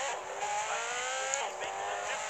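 A NASCAR race car engine in the video game Gangstar Vegas drones steadily and loudly throughout, with a high whine above it and small shifts in pitch.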